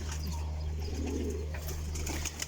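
Pigeons coo softly and continuously over a steady low hum, a close, murmuring flock with no voices.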